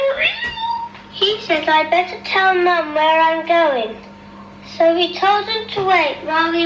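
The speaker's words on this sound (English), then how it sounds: ""Meow." That's a cat." A cat meows repeatedly in an old public information film from the 1970s or 80s, the drawn-out cries interleaved with a narrator's spoken lines.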